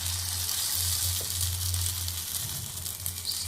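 Ponganalu batter sizzling on a hot multi-cavity pan, a bright continuous hiss with soft crackles, close and unbroken with no talk.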